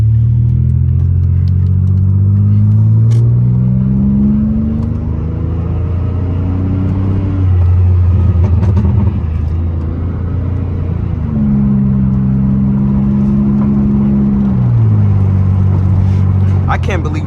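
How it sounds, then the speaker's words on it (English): A muffler-deleted Pontiac Grand Prix GT engine burbles steadily and loudly up close, with a deep, rumbling exhaust note that rises and falls through shifting pitch. No one talks over it. "I can't believe this shit burbles just off a muffler delete."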